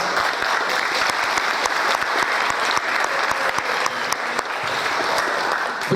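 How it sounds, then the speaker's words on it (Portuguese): An audience at a poultry-breeding symposium claps in a steady round of applause, with individual sharp claps standing out close by over the dense patter. "Eu gostaria de uma salva de palmas."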